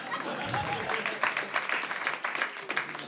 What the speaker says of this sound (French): Allez-y, madame, applaudissez, soyez fiers